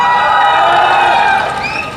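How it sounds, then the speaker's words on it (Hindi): A large outdoor election rally crowd in Gujarat claps and cheers loudly and steadily, a dense roar of applause and shouts sustained throughout, with some whistles rising near the end. "एक बार जोरदार ताली बजा दीजिए"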